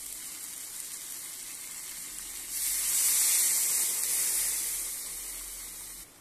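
Hot water poured into a pan of fried ginger and cumin bursts into a loud, steady hiss and sizzle that swells partway through, then slowly fades before cutting off.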